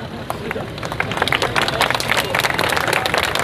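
An audience claps during a speech, with dense clapping building and staying loud under crowd murmur and voices.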